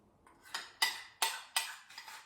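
A spoon scrapes and taps repeatedly as peppermint bark mixture is scooped onto a tray, giving about six distinct, close metallic scrapes in a loose, uneven rhythm.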